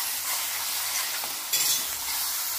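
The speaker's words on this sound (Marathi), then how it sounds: "छानपैकी हे मसाले पण आता या ग्रेव्ही सोबत भाजून घ्यायचे" Masala paste roasting with the gravy for a dhaba-style cashew curry, a loud, steady close sizzle of frying with stirring scrapes and a brief louder spatter midway.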